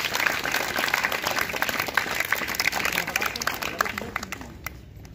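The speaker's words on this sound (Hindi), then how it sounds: "इनके लिए आप लोग तालियां बजाएं" Children clapping in a school classroom, a steady patter of many small hands that carries on for about five seconds, fairly close and moderately loud, then fades slightly toward the end.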